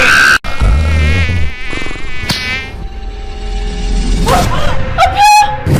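A mosquito said to come from Pluto buzzes as a thin, wavering whine through most of the clip, mixed with background music and a short sharp knock near the start, with no talking.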